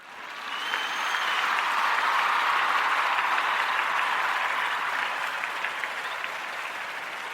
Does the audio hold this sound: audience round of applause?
yes